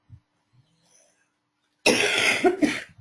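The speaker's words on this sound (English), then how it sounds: "that's that horrible cough again" A single harsh, throaty cough lasting about a second, close and clear, preceded by a few faint small sounds in near silence.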